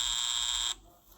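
An electronic buzzer in a circuit-building app sounds a shrill continuous tone for under a second, then cuts off abruptly into near silence.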